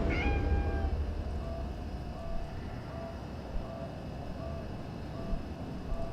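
A cat in the Conarium horror game gives one clear meow at the start, followed by a low, rumbling ambient drone with faint tonal hums and no talk.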